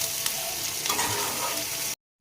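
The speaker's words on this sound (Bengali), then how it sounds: "পেঁয়াজটাকে দিয়ে লাল লাল করে ভেজে নেব।" Chopped onion frying in oil with spices in a pan while okra curry with yogurt is cooked, a steady close sizzle with soft stirring scrapes that cuts off abruptly near the end.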